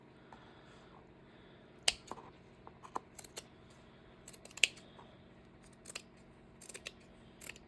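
Scissors snipping through fabric during a marsh journal spine repair, several quiet, crisp cuts spaced irregularly with soft rustling between them.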